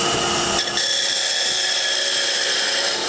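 A wood lathe spinning while a parting tool cuts a tenon, giving a loud, steady, high whining hum with a sharp scraping onset, continuous and alone without talking.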